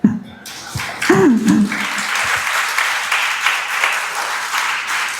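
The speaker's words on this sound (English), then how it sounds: "I'm sure I'm going to get a big clap for that" A lecture audience breaks into applause after a talk, a sustained wash of clapping that follows a brief voice and some low murmuring at the start, then holds steady to the end.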